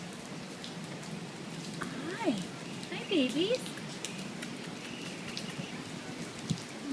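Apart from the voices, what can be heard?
rain falling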